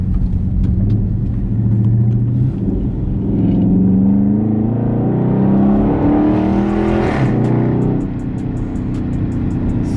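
A Dodge Charger 392 Scat Pack, parked near a GameStop at a launch-day crowd, gives a loud, close throaty engine rev that rises and swells, then drops back to a deep idle rumble.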